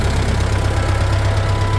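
An original 1969 Ford 5000 tractor engine idles, loud and close, with a steady low rhythmic thrum. The carburetor has slight leakage from the low gasket.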